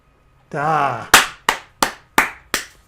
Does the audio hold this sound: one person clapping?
yes